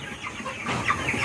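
A flock of Sonali High Super Plus chickens raised for sale clucks and murmurs in a dense, overlapping crowd, a few sharper calls rising near the end.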